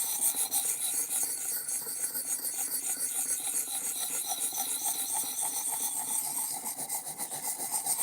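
A knife blade is rubbed in circles across sharpening whetstones, making a continuous gritty rasping scrape with a quick repetitive rhythm, close and fairly quiet, without speech.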